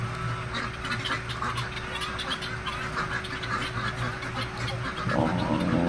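Duck-like calls from a flock of birds chatter shrilly and continuously at close range, a dense overlapping din that swells slightly toward the end, with no one speaking.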